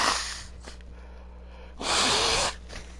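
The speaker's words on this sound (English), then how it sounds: "I'm gonna blow my nose." A person blowing their nose, suffering from pollen allergies, with a short nasal blast followed by a louder, longer forceful honking blow, close up against a quiet room hum.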